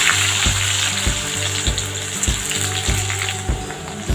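Onions sizzling in hot oil with two cloves and a piece of cinnamon, a steady frying hiss with rhythmic low tapping repeating roughly every half second throughout.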